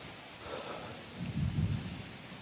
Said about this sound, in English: getting a little stormy